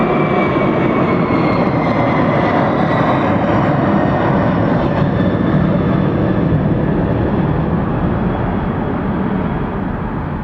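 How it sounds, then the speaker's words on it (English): A loud, continuous Boeing 747 engine roar as it takes off at Atlanta Hartsfield-Jackson airport, broad and rumbling, holding steady throughout as the aircraft powers along nearby. "747, that is what I call an airplane."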